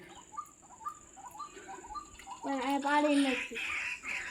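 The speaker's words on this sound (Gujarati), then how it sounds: "જો કેવા પક્ષીઓ બોલે છે" Birds call repeatedly near a small hill-fed stream outside the Bhutnath Mahadev temple at Halenda, short chirps sounding through steady water noise before a person starts talking over them.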